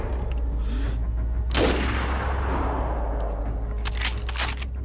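A gunshot rings out in the DayZ video game, one loud sharp crack with a long echoing tail, followed by a few fainter distant shots near the end.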